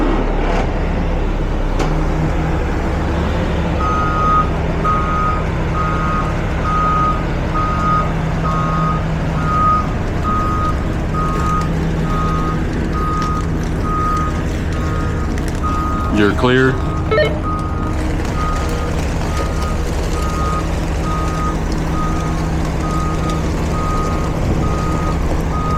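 A truck backs up with a steady, repeating reversing beep running through most of the stretch over low engine rumble, while people talk nearby and a pallet of chicken feed is being handled.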